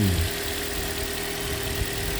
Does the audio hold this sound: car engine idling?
yes